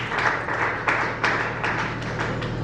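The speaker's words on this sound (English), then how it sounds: "Applause for Mrs. Ruth once again." Audience clapping at a youth town hall, a moderate patter of hands with distinct individual claps standing out at irregular intervals, fairly close and without talk.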